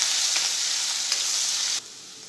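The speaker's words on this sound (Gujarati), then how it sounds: "હવે આદુ મરચાંની પેસ્ટ એડ કરીશું અને થોડી વાર સાંતળી લઈશું।" Ginger and green chili paste sizzles in hot oil in a pan with curry leaves for a sweet corn chevdo, a loud, bright hiss that drops sharply near the end.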